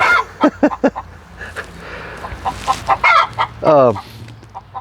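Old hens cluck in short, repeated bursts close by, with a few louder squawks and one drawn-out cackle, over a faint background hum.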